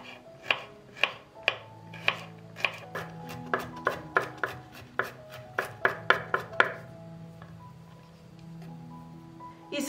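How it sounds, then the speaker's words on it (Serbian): Four garlic cloves being chopped with a knife on a board, a quick series of sharp, evenly spaced taps up close that speed up and then stop, followed by quiet. "sad ću iseckati 4 češnja belog luka"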